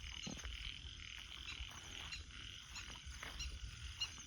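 Frogs croak at night in a rice field, a dense overlapping chorus of calls running steadily throughout over a low, constant background hum of insects.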